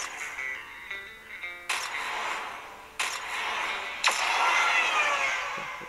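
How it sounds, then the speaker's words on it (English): Engine noise from the Asphalt 8 Airborne racing game on an HTC One max phone: steady broadband car roar with sharp bursts and surges, played loud through the handset speaker. "now we're going to test out Asphalt 8 Airborne, one of the more beautiful racing games currently on the market and very demanding"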